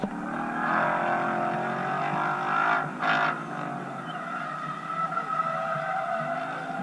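At a Ford and Shelby autocross event, a car drifts through the course with a sustained engine whine and tire noise, holding steady at moderate distance with a short harsher swell midway.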